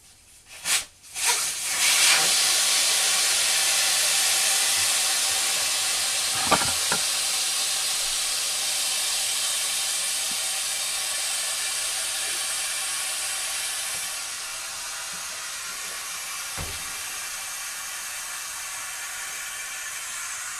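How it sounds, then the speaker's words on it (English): Air hisses steadily out of the tire valve on a BMW K1600GTL motorcycle, a loud close rush after a few sharp clicks that holds for many seconds and then slowly weakens. "First thing I want to do is take the air out of my tire."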